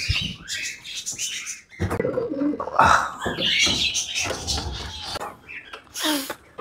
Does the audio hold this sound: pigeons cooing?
yes